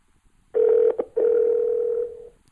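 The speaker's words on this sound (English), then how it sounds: "oh, I can hear it dialing." A phone dialing tone plays through a JBL Flip wireless Bluetooth speaker: a steady electronic beep, briefly broken twice, then holding for about a second before stopping.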